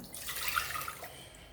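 Two bowls of water pour steadily into a pot for cooking lentils, a close, continuous rushing splash with no voices.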